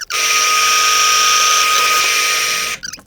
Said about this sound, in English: Now we start, and you need a small steel drill to start.